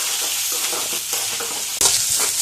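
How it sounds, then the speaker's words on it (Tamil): Chopped onions sauté and sizzle in hot oil in a pan, a steady crackling fry with soft stirring scrapes and a sudden louder hiss near the end. "எல்லாமே மிக்ஸ் பண்ணி கலந்து நல்லா வதக்கிடலாங்க எண்ணெயில்"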